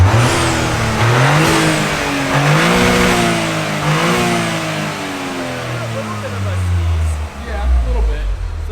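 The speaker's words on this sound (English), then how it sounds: "Final sound test, free revs filmed from outside of the car." A Toyota GR Corolla's engine, recorded from outside the car, free-revs in repeated rising and falling sweeps that blip up and drop back. The revving stays loud throughout, with some voices underneath.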